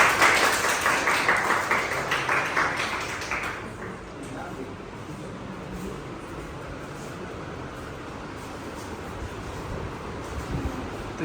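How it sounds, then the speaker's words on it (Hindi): An audience applauds a student who passed the NEET exam, a burst of rapid clapping that fades after a few seconds, followed by quiet room noise and a person speaking. "ताली बजाओ भाई।"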